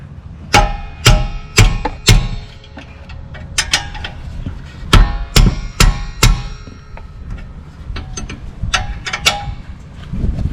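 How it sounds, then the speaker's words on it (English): Metallic ratchet clicks and sharp taps come in quick bursts while the brake caliper bolts on a 2016 Toyota Sienna's rear brakes are tightened, close and loud with short pauses between runs. "Tightening up the caliper bolts."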